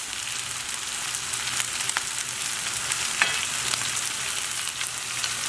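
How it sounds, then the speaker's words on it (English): Tofu fried rice sizzles in a hot pan as soy sauce goes in, making a steady, close hiss and crackle of frying with a few brief sharper spits and no talking. "The rice there. And you're going to add in the soy sauce."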